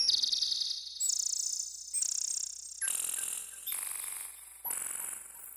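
A synthesized General MIDI bird tweet patch played at very high pitch, sounding thin and distorted, in a series of about six shrill chirping bursts that each last roughly a second, with no one speaking.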